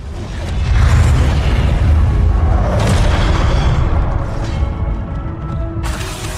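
Hogwarts Legacy's Confringo blast spell on PS4 Pro goes off as a loud, sustained, rumbling explosion with crackling debris. The roar continues for several seconds and then ends abruptly.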